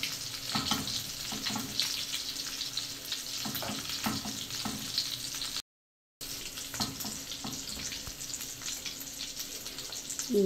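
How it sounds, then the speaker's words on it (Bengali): Beef chilli chips fry in hot oil with a dense, steady sizzle and crackle close by, broken by a brief silent gap midway before the frying resumes. "চিপসগুলো আমার দুই পাশেই সুন্দর লালচে করে ভাজা হয়ে গেছে।"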